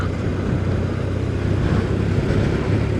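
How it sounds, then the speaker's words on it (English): A 2001 BMW R1150RT motorcycle engine rumbles loudly and continuously with a deep, throaty exhaust drone, steady and close with no speech. "it's a big cruiser, you know, a big noisy cruiser, big exhaust"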